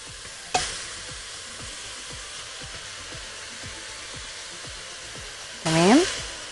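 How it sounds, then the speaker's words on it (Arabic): Minced meat hits a hot pan with onions for a Bolognese pasta sauce, giving a sharp sizzle at the start and another loud burst near the end over a steady frying hiss. "وبعدين هضيف دلوقتي اللحمة اهو"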